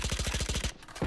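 Gunfire in the tactical shooter Valorant on the Ascent map: a rapid, loud burst of automatic shots at a steady fast rhythm, about a dozen rounds, then a brief break before another shot begins.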